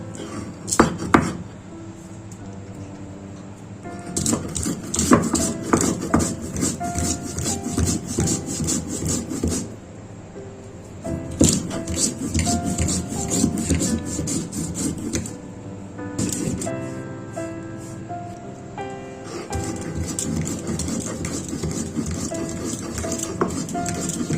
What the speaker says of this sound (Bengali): তো এই লঙ্কা এবং জিরেটা বেটে নেব